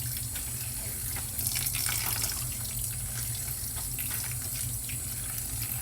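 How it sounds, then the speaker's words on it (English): Water runs steadily from a tap into a sink as black acid-dyed warp and weft yarn is rinsed, giving a close, continuous hiss with light splashing. "we're going to keep on rinsing it until the water in here runs clear"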